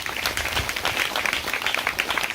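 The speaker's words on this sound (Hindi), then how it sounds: "सब ताली बजाएंगे यीशु मसीह के लिए।" A church congregation at a Hindi-language worship service claps for Jesus Christ in brisk, dense applause that lasts about two seconds, with no talking over it.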